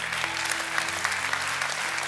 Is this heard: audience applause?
yes